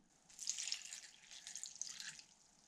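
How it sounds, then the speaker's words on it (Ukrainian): Water poured into a pot of chopped wild greens makes a soft, quiet splashing trickle that runs for about two seconds, with no voices. "Вливаємо в нашу порізану зелень трохи води."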